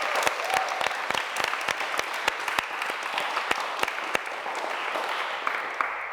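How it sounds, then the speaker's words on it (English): Audience applause at a live Q&A session, a dense wash of many hands clapping steadily, with a few sharp, louder claps standing out near the front throughout. "Give a big clap and thank you to Vikki."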